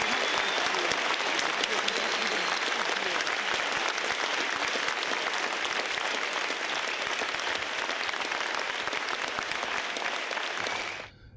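Steady, dense applause from an audience welcoming the chemist Albert Hofmann, loud and unbroken for about eleven seconds before cutting off abruptly.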